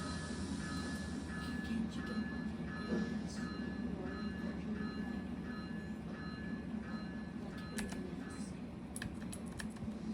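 CSX coal train running on railroad track in the Trainz 22 game, a steady low rumble and rolling drone throughout, with keyboard typing clicks over it.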